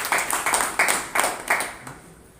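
A small group claps in a classroom-style session, a few short bursts of hand claps arriving in uneven waves and tapering off, fairly close and with no talk over them.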